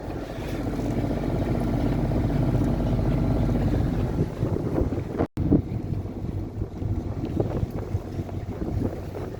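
Gemini Centaur sailboat motoring up the channel toward Southsea Marina, a loud steady rumble of engine and water rush buffeted by heavy wind noise, with a brief dropout partway through.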